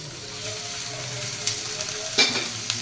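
Ivy gourd (dondakaya) fry being turned slowly in a pan, a steady soft sizzle with a few light scraping clinks of the spoon against the pan.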